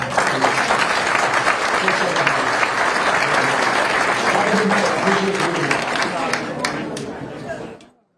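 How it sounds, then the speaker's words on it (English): A meeting audience gives a loud round of applause at an informational meeting about the April 8th solar eclipse, dense clapping with some chatter underneath that holds steady and then fades out at the end. "He needs a round of applause."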